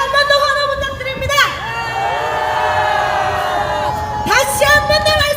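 A crowd at an outdoor political rally in Gwanghwamun, Seoul, breaks into short bursts of cheering and shouting between stretches of loud amplified speech.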